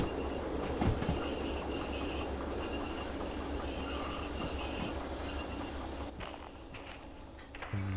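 A train wagon in the Derail Valley simulator rolls onto another track at a steel mill yard, a steady rumbling rail noise with wheel squeal and clanks running throughout, loud and continuous, easing slightly near the end.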